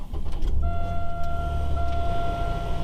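Car engine cranking and catching at the start of a test drive after fitting ZZP poly upper mount bushings, then settling into a steady low idle with a faint whine, close and continuous with no talk.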